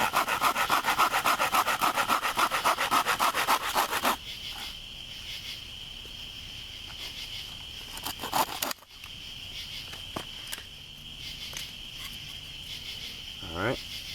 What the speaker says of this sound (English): So first thing I'm going to do is just trim off this knot.